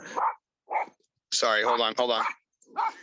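A dog barks in several short, loud bursts, with a longer harsh volley in the middle, close by and interleaved with a man's speech indoors.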